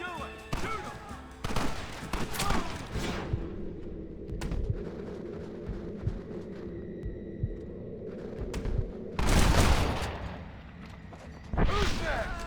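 Gunfire from the Western video game Red Dead Redemption: bursts of shots and heavy booms over a dense battle rumble, with loud blasts near the start and end, and voices shouting faintly under the fighting.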